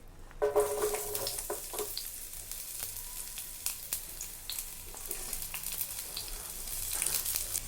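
Large chopped onion and capsicum drop into hot oil, setting off a sudden loud crackling sizzle that settles into a steady frying hiss with scattered pops and spatters.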